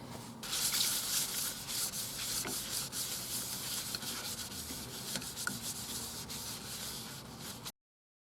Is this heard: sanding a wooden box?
yes